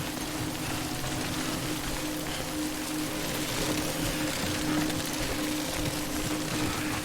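Timefall rain in the Death Stranding video game: a steady, even hiss of rain falling on surfaces with a low background hum underneath, constant throughout and with no voices.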